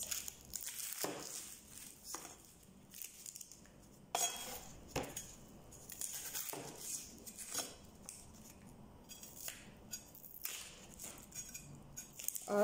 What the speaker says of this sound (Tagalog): ang susunod natin gagawin is maghihiwa ng sibuyas